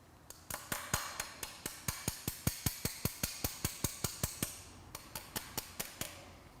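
A makeshift hammer taps a Malossi cylinder kit into place on a Vespa scooter: a steady run of about twenty-five sharp metallic knocks, close and evenly spaced, with a brief pause near the end before the tapping resumes.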